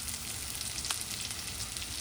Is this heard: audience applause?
no